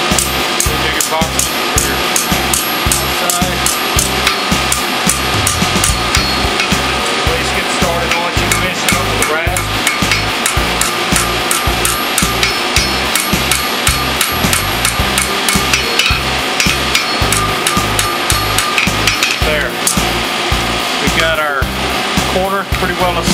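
Steady, rapid hammer blows ring out on a hot horseshoe at a forge as the heel is boxed, a continuous loud rhythmic metallic pounding that runs the whole time with little pause.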